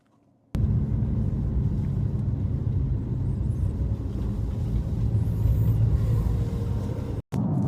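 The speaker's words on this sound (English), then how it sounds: "Oh, there's a tractor coming." A tractor passing by on a UK road, heard as a steady, loud low rumble that holds for about seven seconds and then cuts off abruptly.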